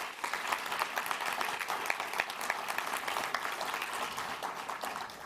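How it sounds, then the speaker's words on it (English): An audience at a community event claps for an honoree in a full, continuous round of applause with crisp individual claps. It holds steady and close for several seconds with no talking. "Let's give a big round of applause for John."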